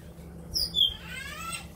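A caged white-rumped shama, kept for a year and from Dak Nong, gives a few brief high chirps and a quick trill, close and fairly faint over a low background hum.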